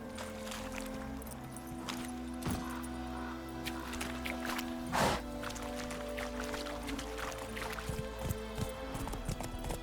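Horse hooves in The Witcher 3, a steady clip-clop of hoofbeats under game music with a few louder thuds, close and moderately loud.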